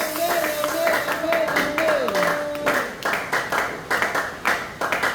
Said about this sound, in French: Reprenez vos places pendant que vous applaudissez pour le Seigneur.